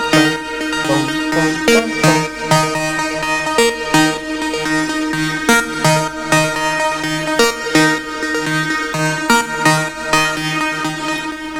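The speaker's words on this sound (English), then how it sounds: "And the next element is main melody." A synth lead carries the main melody of a melodic techno and progressive house track, a bright, repeating, groovy pattern with steady rhythmic pulses over a full mix, loud and continuous with no talking.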